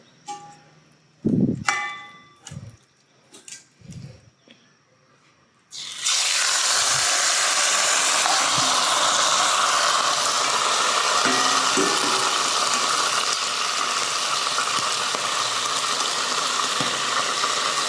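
A steak dumped into a hot pan in a home kitchen, cooked Chinese style: a few clinks and taps, then a sudden loud, steady sizzle and hiss that fills the rest of the clip.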